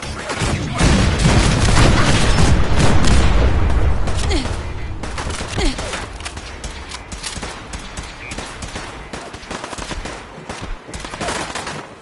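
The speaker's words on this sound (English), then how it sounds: "The cannons are ready. Fire at will." Heavy cannon fire and gunfire in the Fallout 4 video game, a dense, loud barrage of booms and rapid shots that swells for the first few seconds, then keeps crackling steadily at a lower level.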